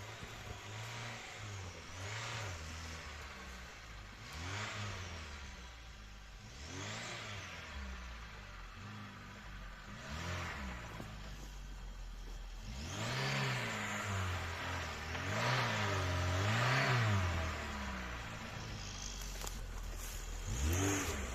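A Lada Niva engine revving on a test drive, rising and falling in repeated rev sweeps that grow louder and heavier toward the end, with steady mid-pitched engine drone between them and no talking.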